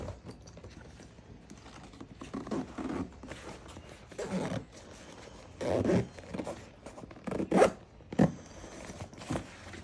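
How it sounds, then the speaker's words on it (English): A pickleball backpack is zipped shut in several short, close zipper pulls with pauses between them, some louder and rasping, mixed with soft rustling of the bag. "We'll see how that zips up."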